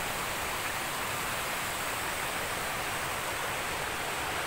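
Stream water rushes over rocks deep in the Kodaikanal forest, giving a constant, close, full-bodied roar that never changes, with no voices.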